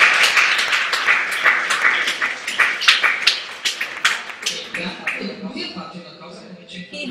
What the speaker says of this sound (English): Very good applause.